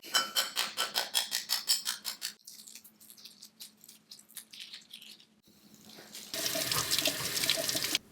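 Peeled hard-boiled eggs rinsed under a running kitchen tap: choppy, pulsing splashes of water on the eggs, then a quieter trickle that gives way to a loud, steady gush close by.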